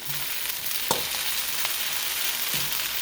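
Onions that have cooked down sizzle steadily in a hot pan, with a few soft scrapes and clicks as they are stirred around.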